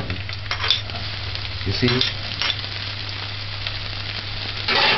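Scallion and onions sautéing in a pan with corned beef, giving a steady close sizzle and frying hiss that runs throughout, with occasional stirring clinks and a brief spoken phrase over it.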